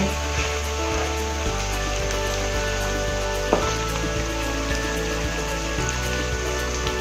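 Aloo methi, potatoes and fenugreek, fries in a pan as a steady close sizzle with crackling spatters and a faint low hum underneath, and no voices.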